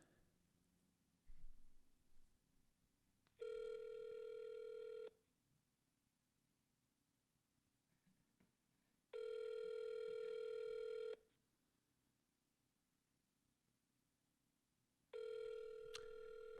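A phone call rings through to an Amazon Connect number: three steady ringback tones, each about two seconds long and separated by quiet pauses, heard faintly over a low background hum.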